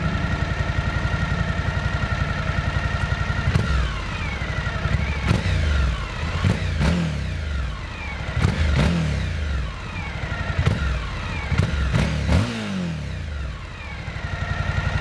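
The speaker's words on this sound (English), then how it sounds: "It is mighty, powerful, and with that specific mechanical whine, sort of like a supercharger just at the idle." Suzuki V-Strom 1050XT motorcycle idling with a steady throb and mechanical whine, broken by a series of sharp throttle blips that rise and fall quickly, about six revs close to the bike with no talking.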